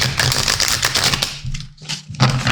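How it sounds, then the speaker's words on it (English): Zodiac Tarot cards by Cecilia Latari and Ana Chavez being shuffled by hand, a dense run of papery riffling and slapping that pauses briefly before resuming, close and fairly loud. "thankfully I'm still shuffling because there's a card"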